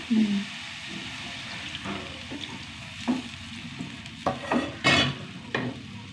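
Stirring and scraping in a frying pan with a brief hiss as a splash of water hits hot oil, several short clattering bursts close by.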